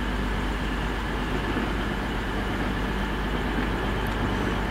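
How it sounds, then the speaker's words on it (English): Steam locomotive 4498 Sir Nigel Gresley hauling a long train through Bath Spa, a loud, steady broadband roar and rumble of the train passing close by, continuous throughout without talk. "That's a long train now, isn't it?"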